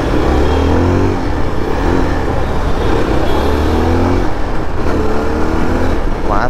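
A 2024 Yezdi Adventure motorcycle with a liquid-cooled engine revs loudly and close, its engine note rising and falling in repeated pulls over steady road and wind noise.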